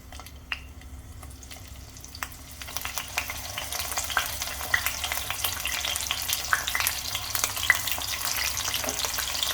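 Potatoes and eggplant frying in oil in a pan for a Sindhi-style baigan aloo fry, a continuous crackling sizzle that grows denser and louder after the vegetables drop in, with scattered pops and stirring, no talk.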